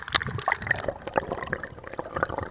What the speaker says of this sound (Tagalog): titistingin ko nga pala yung GoPro ko dyan guys sa tubig para in case na malaglag kung mababasa o hindi